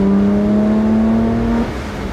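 BMW 1M driving gently on the road after modifications, a steady engine drone holding one pitch for about a second and a half before easing off, close and loud throughout with no talking.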